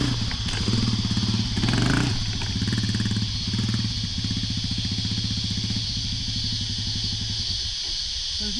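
Continuous motorcycle engine during log jumping on sand, running at a low, steady throttle with a pulsing throb and a brief rise partway through, recorded close over wind hiss.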